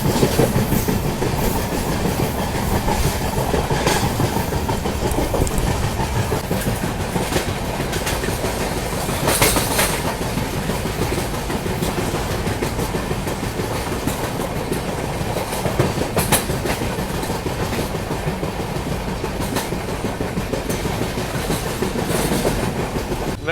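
Konkan Kanya Express train rolling along rails on a single-track electric section, a steady loud rumble with continuous clickety-clack of wheels and occasional brief squeals, sustained throughout without talk.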